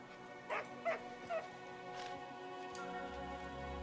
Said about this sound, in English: I can hear dogs barking.